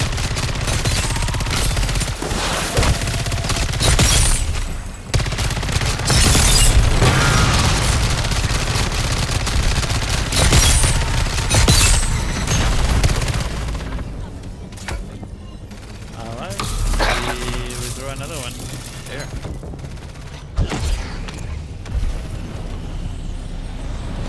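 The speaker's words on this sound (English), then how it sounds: "My gun's going off." Gunfire from a weapon in Call of Duty MW3 Zombies mode, with dense loud bursts and booms through the first half that ease into sparser shots, under players talking.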